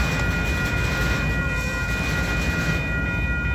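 A Union Pacific grain train with DPU locomotive power rolls by as a steady, dense rumble of rail noise and wagon clatter, loud and continuous, with no voices.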